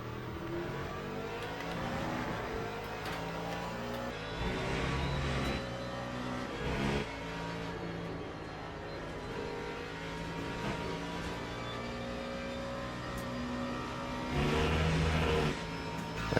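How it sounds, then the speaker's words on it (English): A German race car engine in the Le Mans Ultimate racing game drones steadily past, its sustained whine and roar swelling in a couple of louder surges, with no talk. "Bye bye, little German car."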